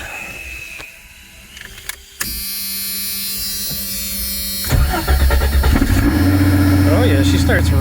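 Car engine started with a JomGand JQP2250 jump starter: an electric starter whirs, then the engine catches and settles into a loud, steady idle close by, with a person talking around it.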